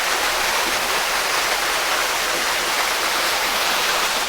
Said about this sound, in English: But yeah, a little waterfall.